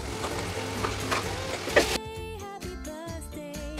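Ground cumin paste and chili powder get stirred into hot oil for biryani, giving a soft sizzle and scraping before music takes over in the second half.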